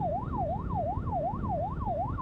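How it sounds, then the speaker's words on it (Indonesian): An ambulance siren wails in a steady rising-and-falling pattern amid traffic on a Malaysian road, loud and continuous over engine rumble, with no one talking. "Betul lah ambulan,"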